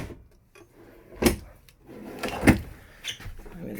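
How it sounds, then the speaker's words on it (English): Small kitchen drawers in a 2017 Thor Axis 25.2 RV sliding open, giving a few close, brief thumps and rattles spread across a quiet interior with a faint background murmur. "Every single one of these little drawers right here are going to open all the way up."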